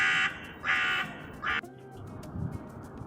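Three loud, harsh caws from a crow come in quick succession at close range, with no one speaking, then fade to quiet outdoor ambience in a winter setting where grain has been scattered for birds.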